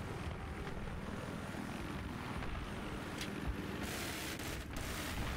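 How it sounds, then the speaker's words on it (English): A Battlefield 3 helicopter drones steadily with a whirring rotor hum, faint gunfire popping sporadically in the background. "I'm harassing their helicopter."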